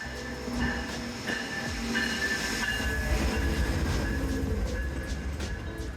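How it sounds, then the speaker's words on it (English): Passenger trains, a GO train and a Via Rail unit, roll past Aldershot Station with a continuous rumbling rush and rhythmic clickety-clack of wheels, heard from the platform at moderate distance without talk. "I showed up early enough to catch some trains on camera. First a GO train, and then a Via Rail unit."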